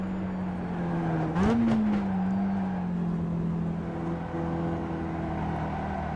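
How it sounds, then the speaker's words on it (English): A Mazda MX-5 engine in the iRacing sim drones steadily at a constant pitch, rising briefly in a quick rev before settling back into a continuous mid-level hum. "The MX-5 is the funniest car I've ever driven."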